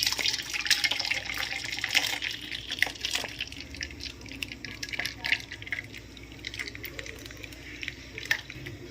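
Pineapple-syrup-flavoured coloured sweet liquid pours through a strainer in a kitchen, a soft, continuous trickle and splash with scattered drips, fairly quiet and with no talk.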